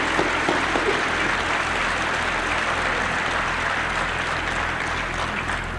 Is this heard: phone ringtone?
no